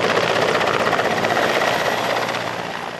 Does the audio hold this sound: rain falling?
no